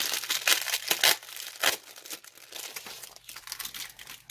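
Paper packaging around doll shoes crinkles and rustles in close, irregular bursts as it is handled and pulled apart, with no talking.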